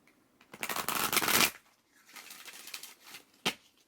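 Tarot cards are shuffled close up in a quick riffling burst, then a softer second shuffle and a final short snap.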